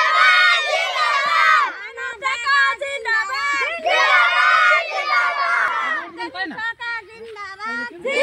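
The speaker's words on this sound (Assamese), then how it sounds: "লখিমপুৰৰ এখন গাঁও ৰাইজে একেলগে চিঞৰিলে মানৱ ডেকা জিন্দাবাদ বিজেপি জিন্দাবাদ" A village crowd in Lakhimpur shouts political slogans together, many loud voices chanting in unison in two long surges with brief ragged gaps between them.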